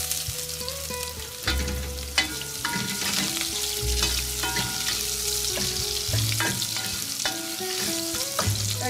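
Onions frying in a pan for aloo gobi, a continuous close sizzle with repeated scraping and clinking as they are stirred.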